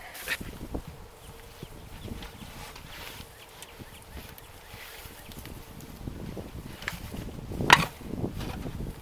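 A few scattered metallic knocks and hammer strikes on a 1967 Impala wheel outdoors in a field, freeing a lug nut, with a sharper blow near the end amid wind noise.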